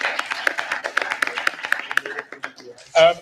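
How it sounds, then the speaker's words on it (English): Applause for presidential candidates at a student union election hustings at KCL, heard as scattered, uneven claps that thin out over about three seconds, with a brief burst of another sound at the end. "So a round of applause for them."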